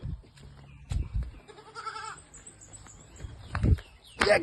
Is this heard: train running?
no